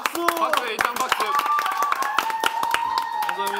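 Quick, uneven clapping from a small group cheering a food delivery of jokbal and hamburgers, with voices talking and exclaiming over it throughout.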